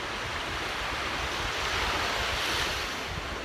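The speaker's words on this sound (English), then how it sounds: "so we have a lot of waves and the current is really pulling" Choppy waves break and wash continuously on the Gulf of Mexico shore under strong current, a dense, loud surf roar mixed with wind buffeting the microphone, with no voices.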